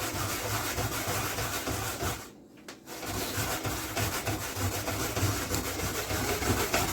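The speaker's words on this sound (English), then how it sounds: "I use the big grater" A coconut is rubbed against a large grater in fast, continuous rasping scrapes, close and steady, broken by one short pause partway through before the grating resumes.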